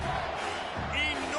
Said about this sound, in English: this crowd is bringing down the house